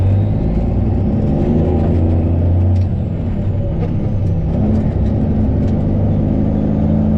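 A Peterbilt 377 dump truck's engine drones loud and close while driving, a deep steady rumble that dips and surges as it shifts gears, with no talk.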